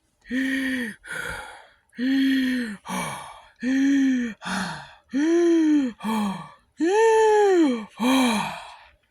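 A voice imitates heavy panting: ten loud, rhythmic breaths alternating in pairs, each a harsh voiced huff, close and continuous for several seconds.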